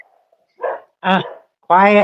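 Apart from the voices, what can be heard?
dog barking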